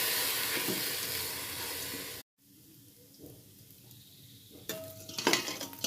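Rice frying with salt in a pan for chicken biryani gives a strong hiss that cuts out abruptly, then a quieter sizzle that builds again with clattering stirring and utensil scrapes.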